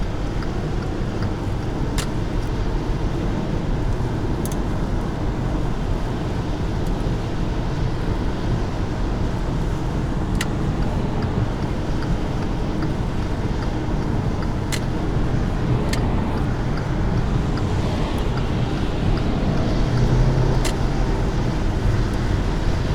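A 2015 Volkswagen Beetle 1.8T is driven with quick gear shifts, heard from inside as a continuous engine and road drone with a few faint clicks scattered throughout.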